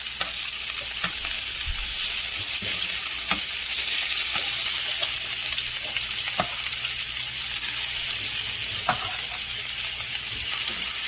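Spinach and mozzarella stuffed meatballs sizzle steadily in a big frying pan, a continuous close crackle with occasional sharper pops and spits, no talking.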